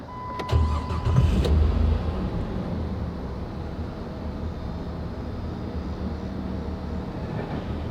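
A 2004 Dodge Intrepid SE with the 2.7L engine and 32k miles cranks briefly and catches, then settles into a smooth, steady low idle heard close by with no talk.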